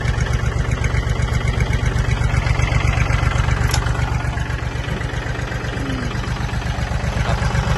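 A Kubota L3608 tractor diesel engine runs steadily close by, a loud, even low chugging idle with a fast regular pulse that continues throughout without talk.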